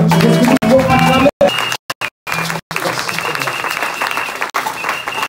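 A church congregation at a Sunday worship service claps to welcome an evangelist, with loud clapping in bursts that are cut by abrupt gaps, mixed with voices and some music-like tones.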